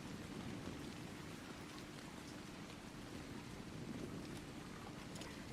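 Night rain in the ARK Survival video game makes a steady, faint, even wash of falling drops. The hiss stays constant and unbroken, with no voices over it.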